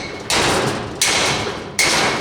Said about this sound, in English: I'm going to give it a couple of little bangs, and I can feel it dropping in